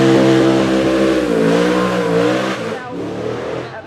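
A 2027 Ford Mustang Boss with a bored-out 5.4-liter V8 revs hard and loud, its deep harmonic engine note rising and falling through a sustained pull before easing off near the end.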